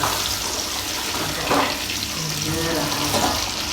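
Meat sizzles steadily in a hot pan with scattered pops and crackles, loud and close throughout, with no voices.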